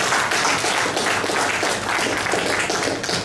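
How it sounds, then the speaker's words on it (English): Conference audience at a diaspora repatriation and investment conference applauding steadily, a dense, even wash of clapping that holds at a constant level throughout. "So let's give Bumani a round of applause for him."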